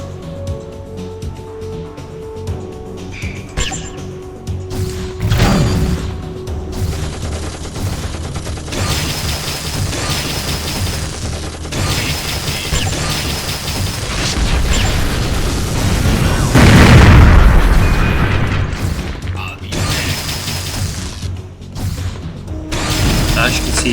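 Explosions and gunfire destroying a turret in the video game Arena Wars 2, a dense loud stream of booms, pops and mechanical clatter running continuously, peaking in a heavy blast midway.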